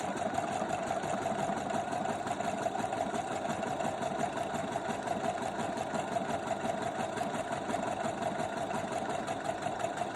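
A sewing machine stitches a buttonhole, running steadily and fast with an even, rapid mechanical whirring and needle chatter, close and continuous throughout with no voices.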